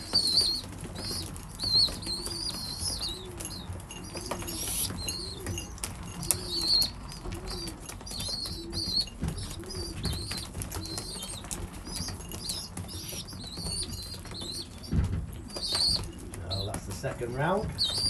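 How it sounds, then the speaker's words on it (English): Racing pigeons flap their wings repeatedly as they come in to feed at the loft trap. The wingbeats sound as bursts of fluttering, with occasional cooing and chirps over a steady outdoor background. "I'll show you the old ones coming in for a feed on the trap."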